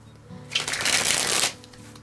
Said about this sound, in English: When it comes to riffle shuffle though, not bad.